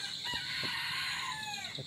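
A rooster crows in one drawn-out call, somewhat distant and fairly faint, over a soft background hiss.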